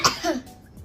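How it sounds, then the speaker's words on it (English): A single person coughs once up close, a sharp burst followed by a short rough tail, with no talking. "Try to cough. Let me hear."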